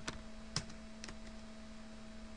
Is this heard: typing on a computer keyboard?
yes